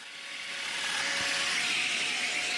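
A Domino joiner cuts mortises in wood for a balustrade coffee table, its motor rising into a steady high-pitched whine that holds close and fairly loud for a couple of seconds.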